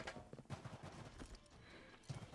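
Hooves of a goat-horse mount trotting in the My Time at Sandrock video game, a quick run of soft clip-clop steps close by, pausing briefly and resuming near the end.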